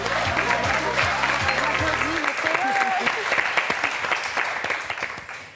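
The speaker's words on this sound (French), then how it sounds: "on vous applaudit très fort" A studio audience on the French game show Motus breaks into dense applause, sustained and fairly loud, while a musical sting fades out at the start.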